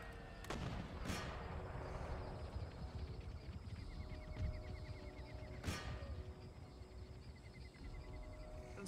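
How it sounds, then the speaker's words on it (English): Mortar and artillery fire in a Napoleonic-era strategy battle from Empire Total War, with several sharp booming shots over a constant dense battlefield din of musketry and rumble. "Kill the mortars."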